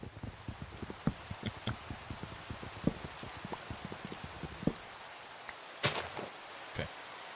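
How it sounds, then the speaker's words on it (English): Rain falling in the video game Minecraft: a steady, soft patter of drops with scattered sharper taps, heard alone at low level, with a brief brighter burst near the end. "It's raining."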